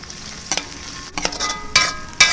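Sliced shallots fry in vegetable oil in a pot, giving a steady close sizzle with a few louder crackling bursts and stirring noises as they cook, with no talking.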